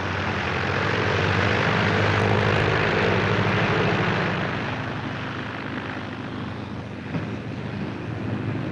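Propeller airplane engine droning steadily in flight, a loud continuous hum with rough low rumble that eases slightly midway, heard alone without talk.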